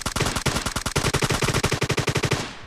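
Rapid automatic gunfire in the PUBG Lite video game, a loud close burst of many shots in quick steady succession lasting a few seconds before cutting off.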